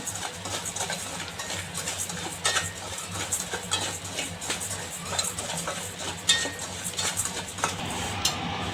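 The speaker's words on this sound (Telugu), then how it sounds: "ఈ సాల్ట్ని కూడా తేమ పోయేంత వరకు బాగా వేయించుకొని" Salt dry-roasting in a pan for bitter gourd pickle, stirred with a utensil: irregular gritty scraping and light metallic clinks over a faint sizzle, fairly quiet and close.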